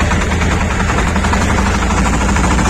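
Tractor engine running under load while cultivating a field for wheat sowing, heard from inside the cab as a loud, steady low rumble with constant vibration.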